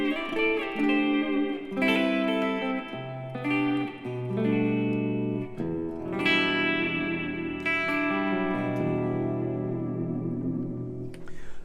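Clean electric guitar through a Two Notes CAB M set to a cathedral reverb, picking slow arpeggiated chords whose notes ring out into long, washy tails; moderately quiet and steady, with no voices.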